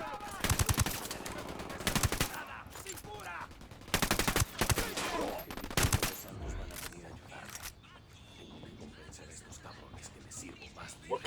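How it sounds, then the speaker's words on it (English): Bursts of automatic gunfire from a tactical shooter set in Ghost Recon Wildlands, loud, rapid clusters of shots separated by short pauses, with voices talking between the volleys. "Opening fire."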